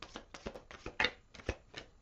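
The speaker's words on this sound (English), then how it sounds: "One more shuffle." A deck of tarot cards shuffled by hand, giving a quick series of crisp riffling flutters and soft slaps close by, with no one speaking.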